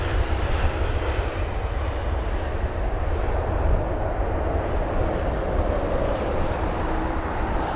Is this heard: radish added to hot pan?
no